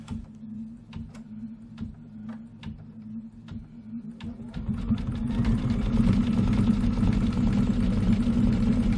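An embroidery sewing machine stitches out a quilted pillow wall-hanging design. Spaced mechanical ticks give way to a steady, busy whirring hum of rapid stitching.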